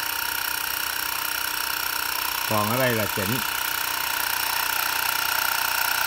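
A Hongyitong portable electric air pump for car, motorbike, bicycle and ball tyres runs with a steady, close mechanical whine and buzz throughout, while someone speaks briefly over it.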